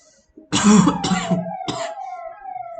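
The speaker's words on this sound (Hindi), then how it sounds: "पुलिस की गाड़ी नहीं आई, ये कचरा गाड़ी है।" Siren of a garbage collection truck that sounds like a police car: loud, close wailing tones with a falling pitch that sweep under bursts of a man's coughing and throat clearing.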